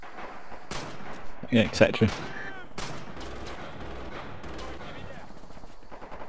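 Bursts of machine gun and rifle fire in the Red Orchestra 2 war shooter, with a loud cluster of shots and a faint echoing boom, heard close under a player's talk.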